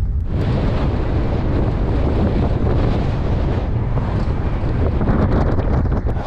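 Strong wind blows steadily across the microphone beside a road just south of Wedderburn in country Victoria, a loud, continuous broadband roar with gusty buffeting throughout and no voices.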